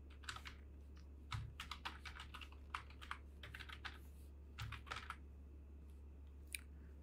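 Keys clack on a computer keyboard in quick irregular bursts while a server hostname is entered, close and fairly quiet over a steady low electrical hum.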